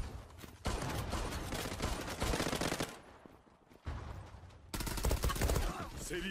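Light machine gun fire in the online shooter Zula: loud, dense bursts of rapid automatic shots, with a brief lull midway before a fresh burst resumes.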